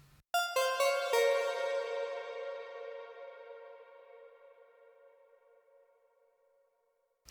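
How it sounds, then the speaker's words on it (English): A bright struck tone rings out in a few quick hits, then blooms into a long, spacious reverb tail from a Reason RV7000 reverb at a 50-50 blend, slowly fading over several seconds. "drag in another RV7000 reverb, and this time I'm going to keep the blend at around 50-50"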